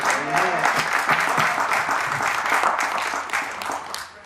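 Crowd applause at a rally held in memory of a young man killed by an unmarked state police vehicle: a dense, loud burst of many people clapping close by, sustained and then tapering toward the end, with voices mixed in.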